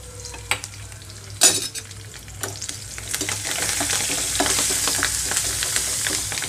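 Curry leaves, turmeric and asafoetida crackle and fry in hot oil for a tempering with green chillies, a steady sizzle with sharp pops and spatters that grows denser and louder toward the end.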